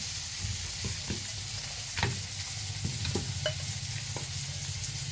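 Masoor dal frying in a pan with a continuous soft sizzle and scattered stirring clicks and scrapes, close and fairly quiet with no talk.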